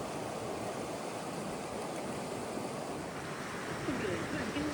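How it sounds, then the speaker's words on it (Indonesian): River water flowing along a pastoral valley at Keketuohai in northern Xinjiang, a steady rushing, gurgling wash that fills the whole clip at moderate level with no talking. "Menikmati bekal dari hotel sambil mendengarkan gemericik aliran air sungai"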